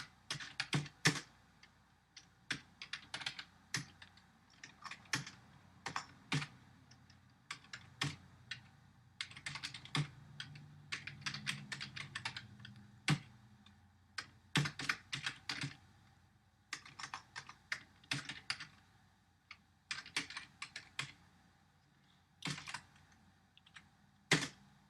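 Code is typed on a computer keyboard in a long run of quick, irregular key clicks with brief pauses. The clicks are close and clear, with no talk.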